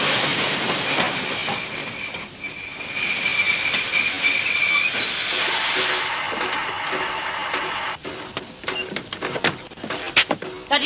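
A passenger train brakes hard after its emergency brake handle is pulled, steel wheels squealing in a high sustained screech over rumbling carriages, then giving way to irregular clanks and clicks as the cars slow.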